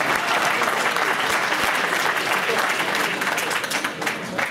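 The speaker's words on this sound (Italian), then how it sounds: "Applauso anche a Pietro." Audience applause for Pietro Calabrese at a Lazio political gathering, a dense, steady wash of many hands clapping that stays loud throughout and tapers slightly at the end.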